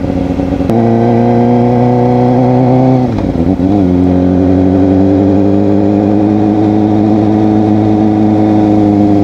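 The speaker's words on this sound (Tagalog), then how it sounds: "Yung motor ko lang yung maingay." A Kawasaki ZX-4RR motorcycle engine runs close and loud with a steady, buzzy hum, briefly dipping and climbing back around the three-second mark before settling into an even idle-like drone, with no voices.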